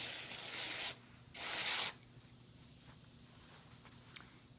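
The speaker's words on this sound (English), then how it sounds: "let's go ahead and get this sprayed and get it started so it can soak in" A pump spray bottle mists cleaner onto a Coach purse in two broad hissing bursts close by, followed by faint rubbing and a small tap in a quiet room.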